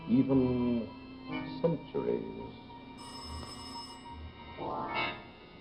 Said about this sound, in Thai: นี่เสียงโทรศัพท์เข้า